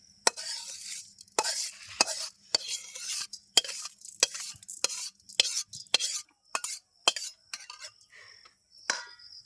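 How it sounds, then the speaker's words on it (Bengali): A metal spoon scrapes and clinks repeatedly against a pan while rice is stir-fried until golden brown for biryani, a brisk irregular series of close, sharp strokes with quiet pauses between them. "বাদামি বাদামি ভাজা হয়েছে"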